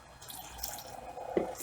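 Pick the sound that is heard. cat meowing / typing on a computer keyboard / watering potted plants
watering potted plants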